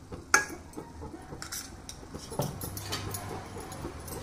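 A spoon stirs cooked cashew upma in a pan, giving a sharp metallic clink followed by soft scraping and scattered light knocks, close and moderately loud.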